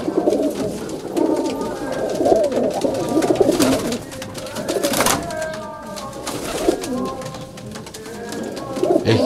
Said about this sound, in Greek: Πολύ όμορφα περιστέρια, γαλανά.